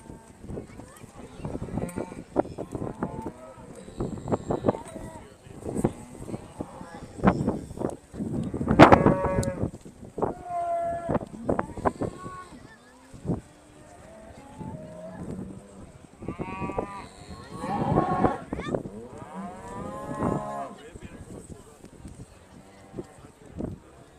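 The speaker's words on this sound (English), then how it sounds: "At the moment, we've got a ring full of cattle." Aberdeen Angus cattle in a show ring at an agricultural show low repeatedly with drawn-out moos, mixed with an announcer talking and general crowd noise throughout.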